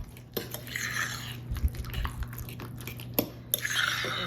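A fork stirs thick muffin batter in a bowl, giving close, soft scraping and repeated clinks against the bowl, fairly quiet with no talking.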